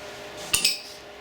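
A metal punch is struck into a wooden pocket watch stand, giving two quick, sharp metallic taps close together that are crisp and bright against a quiet workshop background.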